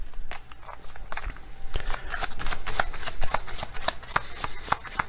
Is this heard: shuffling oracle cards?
yes